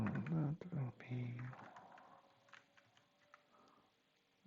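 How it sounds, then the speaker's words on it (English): Someone types on a computer keyboard during a Spring programming session. A voice talks briefly at first, then faint scattered key clicks continue alone in a quiet room. "We will start with the typing."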